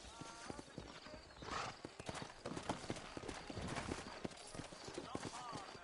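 Horses in the Red Dead Redemption video game, their hooves clip-clopping in a quick steady rhythm close by, with a whinny and a voice talking over the hoofbeats.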